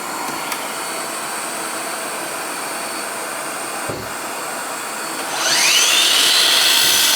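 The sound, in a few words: wet dry vac running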